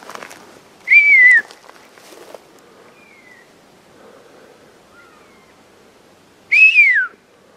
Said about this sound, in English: Guys, they're going crazy with whistles.